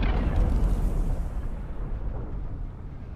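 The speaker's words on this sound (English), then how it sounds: "That was a whole damn explosion" A big explosion in Dune Awakening, a heavy low boom that rolls on and slowly fades over a few seconds, loud and without voices.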